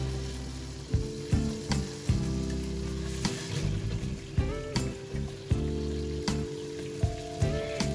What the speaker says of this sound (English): I fry the sides for about 8 seconds each to make sure it's properly cooked.